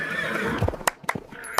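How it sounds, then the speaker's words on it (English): Cartoon horse sound effect: a loud, wavering whinny that slides down in pitch, followed by a few sharp hoof-like clops, close and clear with no speech over it. "Magic horse."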